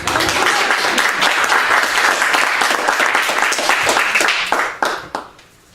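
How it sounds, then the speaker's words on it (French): An audience at a live comedy stage show breaks into thick, vigorous applause that holds steady for several seconds, then thins to a few last scattered claps and dies away. "Pour applaudir, c'est gratuit."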